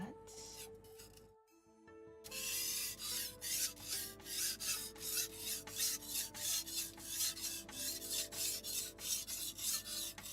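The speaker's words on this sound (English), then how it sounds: "yes, watering it does make the sharpening better." A whetstone sharpening a blade in a video game makes a rhythmic rasping scrape, repeated in even strokes after a short silent gap near the start, with faint background tones beneath.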